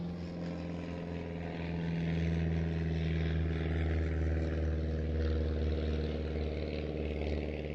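A propeller airplane droning overhead, its steady engine hum swelling slightly louder midway and staying loud to the end.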